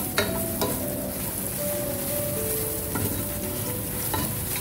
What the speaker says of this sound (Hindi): इसके अंदर मैंने 3 खाने के चम्मच ऑयल डाला है और अब इसमें मैं ये लहसुन डालूंगी